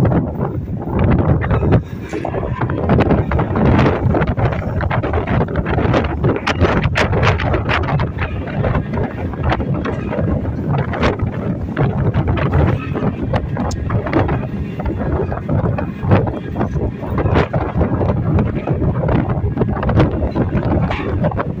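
Strong wind roars across a boat harbor where passengers wait to board a ship, a dense, gusty rush buffeting the microphone continuously throughout, loud and close with no clear voices over it.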